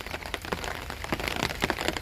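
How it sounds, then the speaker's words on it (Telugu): Heavy rain pours onto a terrace garden of leafy greens and vegetable plants, a dense steady hiss broken by louder drop impacts throughout, with no voices. "వర్షం పెద్దదైపోయింది, తడిచిపోయాము మొత్తం"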